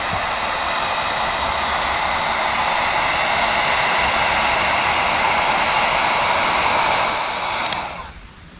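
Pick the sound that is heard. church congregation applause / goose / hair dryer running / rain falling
hair dryer running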